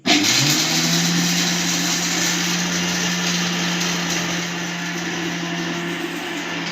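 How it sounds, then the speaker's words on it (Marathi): A mixer grinder grinding unroasted peanuts whirs loudly and continuously at a steady high pitch, running alone for several seconds. "मी मिक्सरमध्ये काहीतरी बारीक करते"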